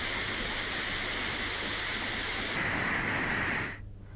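The flooded Maniyari river in Mungeli, swollen by days of heavy rain, rushes in a dense, steady roar. It shifts slightly brighter partway through, then cuts off abruptly near the end.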